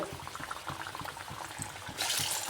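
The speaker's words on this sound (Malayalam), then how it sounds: "ചൂടായ എണ്ണയ്ക്ക് കുറേശ്ശെ കുറേശ്ശെ ഇട്ട് കൊടുക്കുക" Dough frying in hot oil, a faint bubbling sizzle with soft pulsing pops, swelling into a brighter, louder hiss near the end as more is added.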